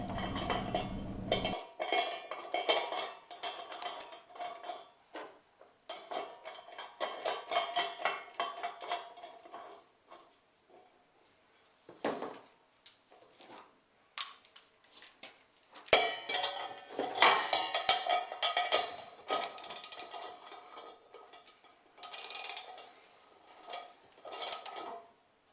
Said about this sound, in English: you can put the coupler back on backwards and use that to draw the fitting down a little deeper into the dimple